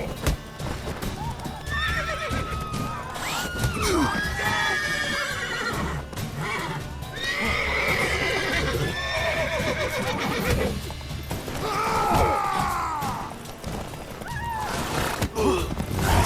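Horses in The Witcher 3 whinny and neigh repeatedly over a steady clip-clop of hooves, the calls rising loudly in several bursts throughout while a voice speaks briefly.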